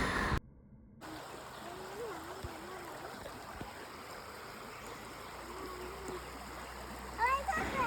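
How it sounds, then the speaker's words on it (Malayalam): A river flows past a riverside picnic spot, its steady rushing stream moderately close beneath birdsong that chirps in repeated phrases, with a short dropout near the start and a louder burst of water and birds toward the end. "ഇവിടുത്തെ ഈ പുഴയുടെ ശബ്ദവും കിളികളുടെ ശബ്ദവും"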